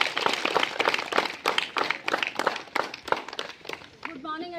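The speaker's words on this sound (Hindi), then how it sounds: "एक बार जोरदार ताली से" Audience applause welcoming a speaker onto the stage at a vaccination awareness programme, a dense burst of many hands clapping steadily for about four seconds before thinning out as a voice begins.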